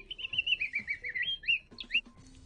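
A projector's built-in bird sound setting chirps in a quick series of bright, high tweets, fairly clear and close, with a brief pause before a few final calls.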